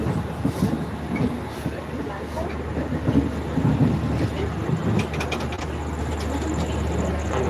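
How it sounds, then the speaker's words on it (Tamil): A train rolls slowly past with a steady low rumble and occasional clanks, heard from nearby amid continuous background noise. "அந்த ட்ரெயின் ரொம்ப மெதுவாக வருது"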